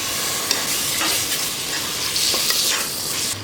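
Chicken frying with masala crackles loudly and close, with repeated stirring scrapes and spatula knocks over a constant sizzle and no voices.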